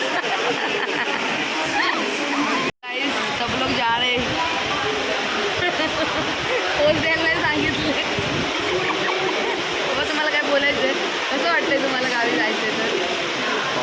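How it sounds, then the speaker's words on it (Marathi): Heavy monsoon rain in Konkan pours in a dense, continuous roar, with a brief dropout early on and speech mixed faintly into the wash. "पाऊस खूप जोरात आहे"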